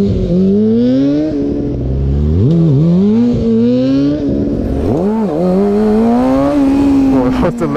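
A car engine revs hard during a staggered wheelie attempt. Its pitch swings up and down in repeated surges, loud and close, with people talking and exclaiming over it.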